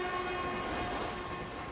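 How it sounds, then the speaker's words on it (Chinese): A Taiwan Railway train sounds a long, steady horn blast in mourning on the seventh day after a fatal rail accident. The tone holds loud and unbroken, with no other sounds. "不论行进间或是正好停靠站，其他列次鸣笛5秒"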